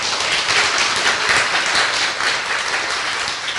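Sustained audience applause at a Korean political talk show taping, dense and steady clapping filling the room for several seconds without speech.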